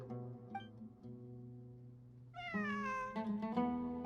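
A cat in the video game Genshin Impact gives a drawn-out meow over a steady humming game soundtrack, followed by a second, higher and brighter meow near the end.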